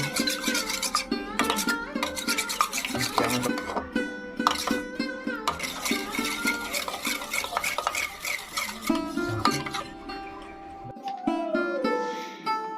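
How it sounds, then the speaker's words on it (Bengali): A utensil whisks a chicken cutlet mixture with a little black salt in a bowl, making rapid rhythmic clinking and scraping strokes up close that continue steadily before slowing near the end. "এবার আমি এটাতে সামান্য একটু বিট লবণ দিয়ে ফেটিয়ে নিব"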